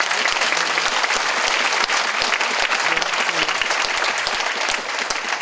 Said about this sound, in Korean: 다시 한번 박동원 선생님 큰 박수 부탁드리겠습니다.